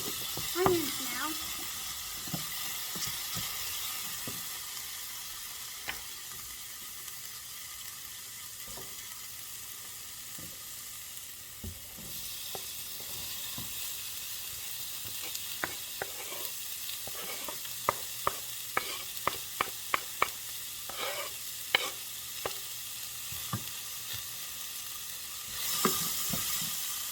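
Onions sizzle and fry in a pan for a chicken stroganoff, a steady hiss with scattered sharp crackles and pops. Stirring noises come through, and a voice speaks briefly near the start.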